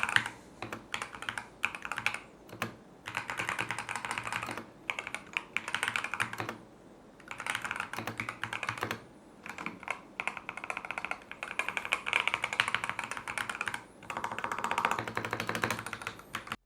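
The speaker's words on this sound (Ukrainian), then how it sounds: "давайте послухаємо свічі, як вони звучать" Rapid clacky keystrokes from a Logitech G Pro X TKL Rapid mechanical keyboard, typed in bursts with short pauses between them, close and crisp.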